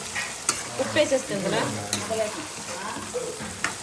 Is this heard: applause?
no